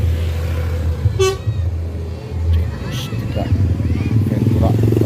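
A telolet musical horn sounds on a bus at a jamboree event, giving short tuneful toots amid traffic noise and a crowd, with people talking close by.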